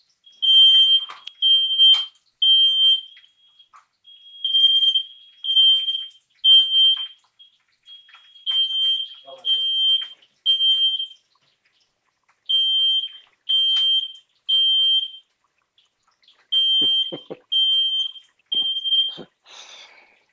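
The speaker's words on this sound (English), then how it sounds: "I'll let you talk around that while I turn off my smoke alarm" A smoke alarm sounds in a home kitchen during cooking, giving loud, piercing, high-pitched beeps in repeated clusters of three across about twenty seconds, with brief pauses between groups and faint clatter underneath.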